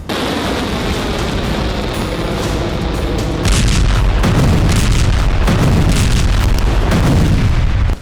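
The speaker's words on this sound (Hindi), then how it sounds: "ईरान ने हाइपरसोनिक मिसाइलों का एक वीडियो जारी करके अपने तेवर दिखाए हैं" An Iranian hypersonic missile launch, a loud sustained roaring rumble that swells and grows even heavier partway through, with rough booming texture and no speech.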